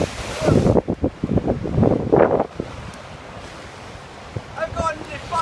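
Sea waves break on the shore, surging in loud, rough washes with heavy wind buffeting the microphone, then settle into a softer hiss while voices call out nearby.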